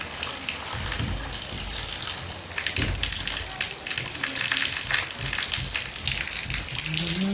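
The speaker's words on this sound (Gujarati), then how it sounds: "બહાર તો વરસાદ ચાલુ થઈ ગયો છે અત્યારે." Steady rain falling outside a village home, a dense continuous hiss with heavier gushing patches, fairly loud and close, with some low thumps and faint voices in the background.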